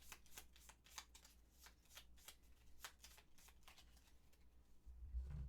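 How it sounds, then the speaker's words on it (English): A deck of Gloomhaven board game cards being shuffled at close range, with a steady run of crisp riffling and flicking bursts, ending in a louder thump as the cards settle. "Let me shuffle this."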